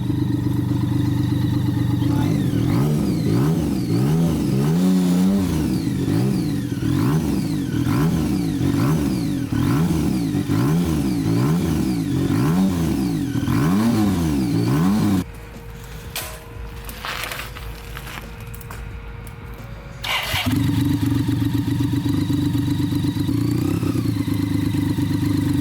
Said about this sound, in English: It's such an easy bike, like you see, like she hasn't been ridden for a good while, and she still started the first time.